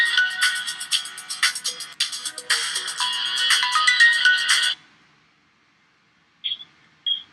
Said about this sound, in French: So, je appelle Moussousou